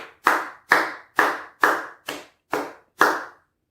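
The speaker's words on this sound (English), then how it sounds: "let's everybody give a round of applause to ADEP and Battle Truth." Hand claps at a battle rap event: seven sharp, evenly spaced claps, close and crisp, each ringing off briefly, with no other sound between them.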